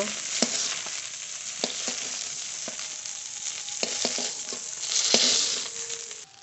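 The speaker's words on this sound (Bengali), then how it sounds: "এই মাছগুলো খুব ভালো করে ভাজা হয়ে গেছে" Small catla fish sizzling in hot oil, a constant bright hiss broken by sharp pops and crackles at irregular intervals.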